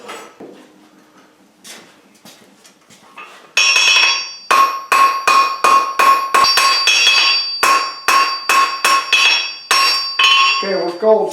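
Hammer striking hot steel on an anvil while forging and tapering a key rack, a loud ringing series of rapid, evenly spaced blows after a quieter lead-in, close and metallic with sustained tones between strikes.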